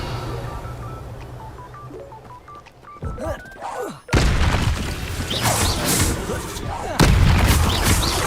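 Fiery Confringo spell blasts from the Hogwarts Legacy video game, with loud booming bursts erupting from around the three-second mark and continuing as a heavy, crackling barrage over faint game music and tones.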